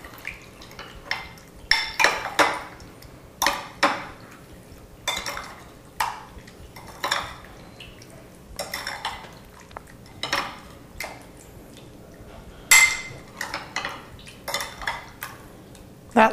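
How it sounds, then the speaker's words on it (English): Spoon scraping and clinking in a pot while stirring cherries with sugar and cornstarch, irregular close strokes and taps with short pauses between them. "And then I'm going to stir these and blend it all together"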